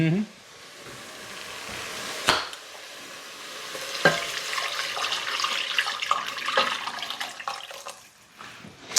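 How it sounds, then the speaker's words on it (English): Tap water pouring into a container to refill it while making caldo verde broth, a steady rushing flow with a few sharp knocks, close and fairly loud. "fill this back up with water, and then that makes our 64 ounces"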